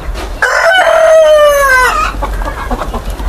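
A curly-feathered rooster gives one loud, close crow lasting about a second and a half, followed by quieter yard noise.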